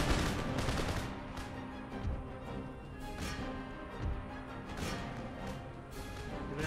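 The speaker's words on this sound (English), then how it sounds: "More organ gunfire." Repeated crackling organ gun volleys in Empire: Total War at irregular intervals, several bursts layered over a continuous battle din.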